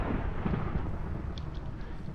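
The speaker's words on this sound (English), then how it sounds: "It's thundering out." Thunder in a Minecraft modpack game rolls as a low, diffuse rumble across the whole short stretch, steady and moderately loud, with a faint brief crackle partway through and no talk.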